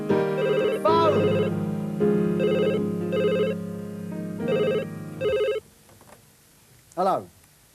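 A telephone rings in bursts of pulsed electronic trills over sustained music, then stops, leaving brief vocal sounds and near quiet.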